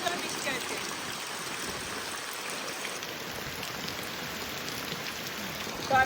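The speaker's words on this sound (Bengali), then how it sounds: "প্রচুর জোরে বৃষ্টি হয়েছে।" Heavy rain falling outdoors, a steady dense hiss of drops on surfaces that holds evenly from start to finish at moderate level.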